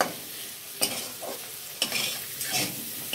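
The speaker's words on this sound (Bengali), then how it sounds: "টমেটোটা দিয়ে একটু নাড়াচাড়া করলাম।" Tomato stirred into jackfruit frying in a pan, a steady sizzle with several scraping spoon strokes over three seconds, close and loud.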